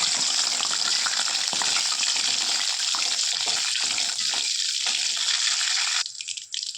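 Loud, continuous hissing and crackling of about ten dried red chillies frying in hot oil, close up, easing to a softer sizzle near the end.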